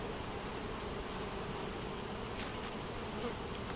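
Dense, continuous buzzing of many honeybees at close range during a natural-comb hive inspection, a steady hum with no pauses or voices.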